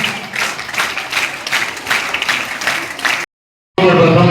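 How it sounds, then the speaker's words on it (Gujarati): Applause rings out for the class 10 girls at a Gandhi Jayanti school celebration, a dense burst of many hands clapping for about three seconds before a brief silence, then louder sound. "આપણે તાળીઓના ગણગણાટથી દીકરીઓને ખૂબ પ્રોત્સાહિત કરીશું."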